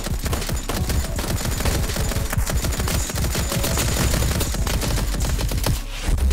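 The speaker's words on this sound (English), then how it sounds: "So there's somebody sniping at us from the trees." Rapid automatic gunfire from a sniper and rifles in the battle royale video game Rift Royale, a dense, continuous volley of loud, close shots with no pauses.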